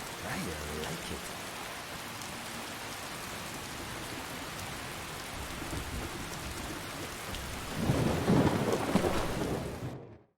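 Steady rain pours through a Skyrim VR thunderstorm, a continuous hiss with a loud rumble of thunder swelling near the end before cutting off.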